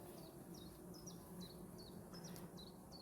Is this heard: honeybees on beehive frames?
yes